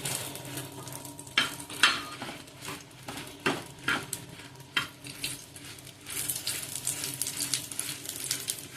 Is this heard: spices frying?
yes